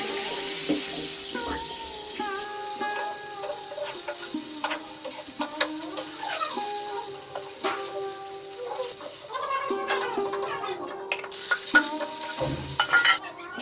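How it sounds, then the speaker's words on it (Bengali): Onions fry in a pan beside chicken browning on low heat, a soft sizzle under clinking utensils, stirring scrapes and tonal kitchen sounds, with a brief water-like burst near the end and no clear speech. "তারপরে পেঁয়াজটা ভেজে নিচ্ছি"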